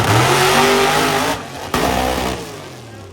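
A hot rod drag racing down the strip at a drag week event roars loudly and close, its engine note falling as it passes, with a brief dip and surge partway through.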